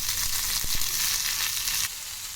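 Coriander seeds, cumin, dried red chillies, curry leaves and chopped onion frying in oil in a pan, a steady close sizzle and crackle with a couple of soft knocks, the hiss dropping slightly near the end.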